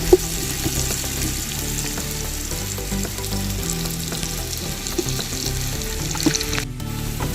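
Capsicum sautéing in a pan for chicken mandhi gives a steady, loud sizzle and crackle with occasional stirring scrapes, continuous throughout with no voices.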